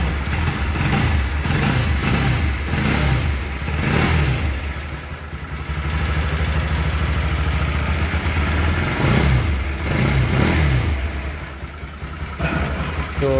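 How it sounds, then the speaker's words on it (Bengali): A motorcycle on its original exhaust idles close by with a deep, steady throb, broken by several short rising revs that swell and fall back over the span. "original এক্সজস্টের sound guys"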